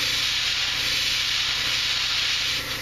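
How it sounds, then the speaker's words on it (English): A steady, loud hiss of spray paint from an aerosol can onto a plastic model kit's edge, sustained for a few seconds before easing off at the end. "I'm going to kind of spray right just along that edge, and I'm barely putting it on."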